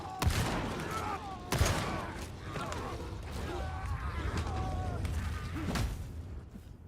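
Impact grenade explosions in the video game Darktide, several sharp booming blasts spread across the stretch over dense game noise and a steady rumbling backdrop, with no speech.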